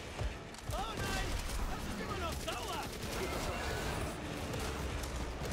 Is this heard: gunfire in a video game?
yes